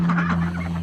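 Ducks in a backyard homestead poultry pen behind an RV building give a brief, close burst of loud, nasal calling that lasts under a second, with no voices.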